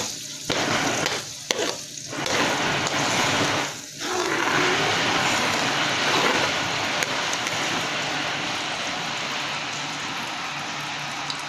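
Garlic sizzling as it sautés in a hot pan while cooking shrimp paste (bagoong alamang), a loud steady frying hiss with a few stirring scrapes in the first seconds, then continuous crackle.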